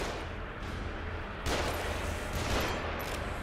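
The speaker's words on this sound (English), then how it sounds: "They're shooting from above." Gunfire from enemies shooting from above in The Evil Within, a dense crackling volley of shots with a few sharper bursts standing out against a steady rumble.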